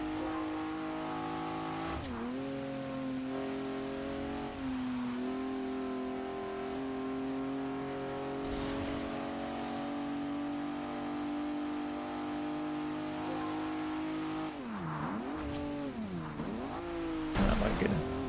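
A Maserati engine drifting in Forza Horizon 2: a sustained loud engine drone with pitch dips and swells as it revs through corners, with bursts of tire squeal near the end.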